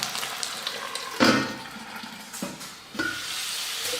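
Sliced potatoes fry in a large pan over a medium flame, giving a steady close sizzle broken by a few louder bursts as they are moved about, with no voices.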